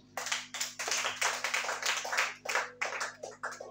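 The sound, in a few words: congregation clapping and acclaiming in church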